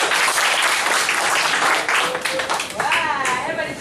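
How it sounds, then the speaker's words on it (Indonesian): Participants at a teaching-volunteer briefing in Banda Aceh clap their hands together in a loud, dense burst that tapers off, with voices and some shouts rising as the clapping fades. "Oke, siapa tepuk tangan?"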